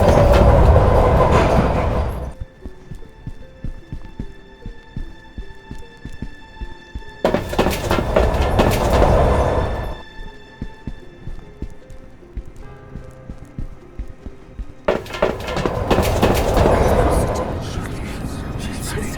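Rumbling train noise from a horror video game surges in three loud bursts separated by quieter stretches of rhythmic clicking and a faint tonal hum, like rolling carriages heard from inside.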